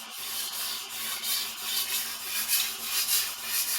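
A vintage 14-inch Ontario chef knife being drawn across a sharpening stone in full passes, a continuous close gritty rubbing that swells and fades with each stroke.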